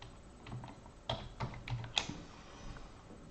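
Keys on a computer keyboard tapped in a short, irregular burst while text goes into a font-editing program, each click faint and close with small gaps between strokes.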